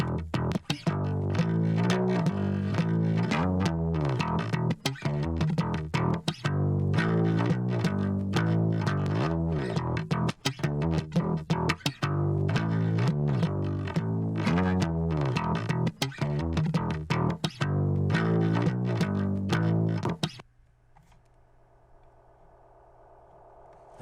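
A gritty drum and bass line runs through a big fuzzy tone compressor, an Ignite free bass amp, echo and a saturator, producing loud, distorted, rhythmic notes for about twenty seconds before dropping to a faint echo tail.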